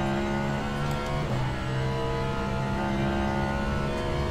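A race car engine in the sim racing game Le Mans Ultimate holds a steady, buzzing mid-pitched drone at a constant level, a smooth held note with a slight pitch shift partway through and no talk.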